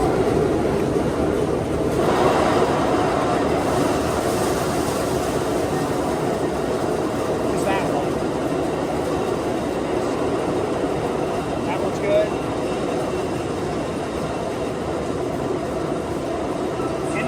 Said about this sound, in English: Dry auger is a go. My goodness, Southeast auger works.